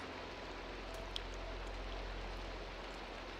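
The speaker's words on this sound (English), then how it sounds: "I would like it to not be raining right now." Steady rain falls in Minecraft as an even, hissing wash that holds unbroken throughout, quiet and with no voices over it.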